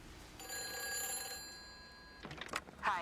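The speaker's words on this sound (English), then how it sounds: "this must be the phone we were hearing" In Everybody's Gone to the Rapture, a telephone rings with a sustained bell-like tone, then stops as other sounds follow.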